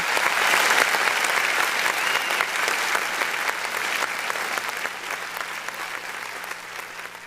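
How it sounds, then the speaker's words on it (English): Steady, loud applause from a group of people, dense clapping that carries on throughout and tapers slightly toward the end. "That is a wonderful applause from our producer, William"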